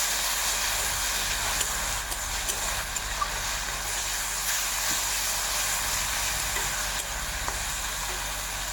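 Spice paste fries in a pan for the Bengali dish begun posto, a steady close sizzle and hiss with occasional faint clicks of stirring.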